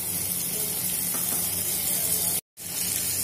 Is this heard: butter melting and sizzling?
yes